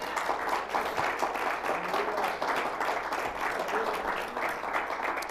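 Loud, sustained applause from a church congregation during a sermon, a steady wash of clapping that fills the room without a break.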